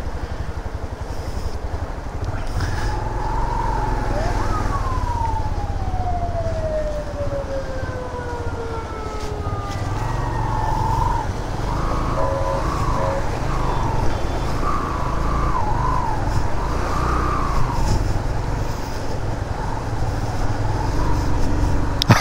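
A motorbike on a mountain road toward Naran and Babusar Top rides through a water crossing: a steady, loud engine rumble runs throughout, with rising and falling whining tones over it and no talking.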